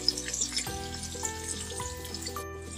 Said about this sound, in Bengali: এখন তেলের মধ্যে ভেজে নিচ্ছি।